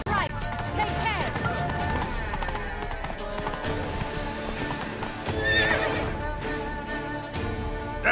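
Hooves clop and a horse whinnies as the mount gallops through town in The Witcher 3 video game, layered under a continuous music score and game noise.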